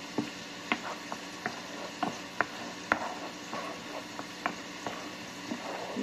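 Garlic fries in melted butter in a pan, giving a faint sizzle under irregular sharp ticks and taps of a utensil against the pan, with no talking.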